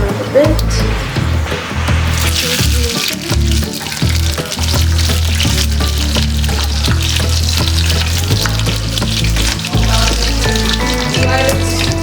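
Mutton curry with bay leaves being stirred as it fries in a pan, a steady loud sizzle with scraping stir strokes close by, faint water sounds and brief talk over it.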